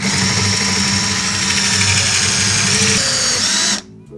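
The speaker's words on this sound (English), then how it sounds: "So, next one, hole saw." A hole saw on a power drill bores through a Honda CRF450RL accessory panel, a loud continuous grinding whine that holds steady for several seconds before cutting off abruptly.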